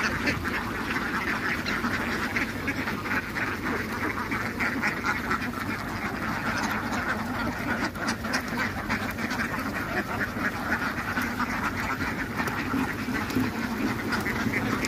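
Khaki Campbell ducks on a farm quack continuously as a flock while being fed, a dense, steady chorus of overlapping calls close by with no talking.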